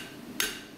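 A blacksmith's hammer strikes hot metal flat on an anvil while spreading it. There is a single sharp, close blow in a quiet room.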